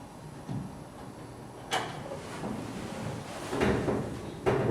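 The door glass of a 1966 Chevelle is rolled down, giving a few quiet scraping and sliding clunks spaced over several seconds, with sharper knocks near the end and no talking.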